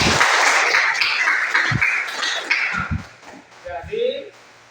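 A small group claps briefly during a lesson, the applause strongest at first and fading within a few seconds while voices talk over and after it.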